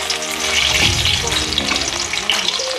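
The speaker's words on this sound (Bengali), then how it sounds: "ছোট আলুর দমগুলো ফ্রাই করে নিব লাল করে।" Small potatoes sizzle steadily in hot mustard oil, a dense, close crackle running throughout with occasional stirring scrapes and soft background music beneath.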